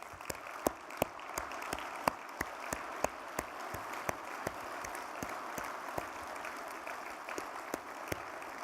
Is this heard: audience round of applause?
yes